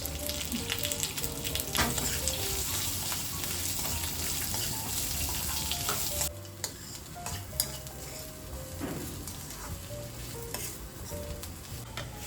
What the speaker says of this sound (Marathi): कांदा आपल्याला छान असा गुलाबी होईपर्यंत परतून घ्यायचा आहे.